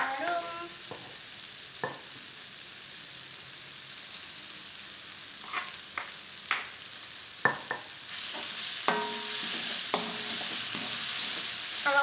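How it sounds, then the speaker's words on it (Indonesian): Spice paste sizzling as it is sautéed in a pan for homemade cilok, a steady fry hiss with scattered clicks and scrapes of stirring, growing denser and louder toward the end. "Tumis bumbu sampai benar-benar harum."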